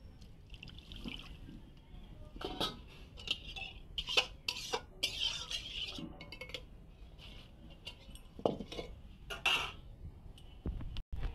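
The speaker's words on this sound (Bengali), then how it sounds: "এবার আমি এইটাকে ঢেলে নেবো, কড়াটাকে একটু ধুয়ে নেবো।" In a home kitchen, food is poured out of a kadai and the wok is washed, giving irregular metallic clinks, scrapes and knocks mixed with splashes and trickling water, close and fairly quiet.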